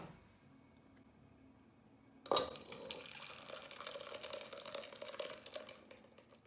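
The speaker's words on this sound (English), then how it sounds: "So I will sieve it." Tamarind chutney pressed and dripping through a sieve, quiet at first, then a sudden wet squelch followed by steady soft trickling and squishing close by, with no speech.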